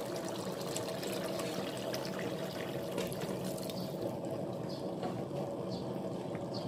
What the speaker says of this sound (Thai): เพิ่มน้ำลงไปอีก1ถ้วยนะคะ